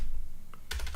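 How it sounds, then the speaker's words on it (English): Keys clack on a computer keyboard as a password is typed at a terminal, a short quick cluster of close, crisp keystrokes after a brief quiet start. "First I enter my password"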